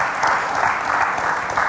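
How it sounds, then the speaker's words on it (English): Audience applause at a televised quiz show, steady dense clapping from a studio crowd filling the whole short stretch, loud and continuous with no voices over it. "Let's give them a round of applause."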